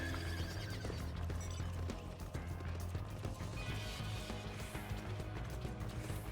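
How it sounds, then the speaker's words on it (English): A golden horse mount in Final Fantasy XIV, heard as a game soundtrack with a steady rhythmic clatter of hooves and mechanical ticking, and a whinnying tone running through the dense mix at moderate volume. "Giddy up, golden horsey."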